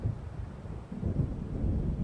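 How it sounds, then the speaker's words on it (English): Thunderstorm in the Alan Wake video game, a deep continuous rumble of thunder with rain noise rolling steadily and swelling slightly toward the end, no voices. "It seems there's a storm coming."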